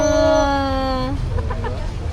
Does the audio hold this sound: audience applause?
no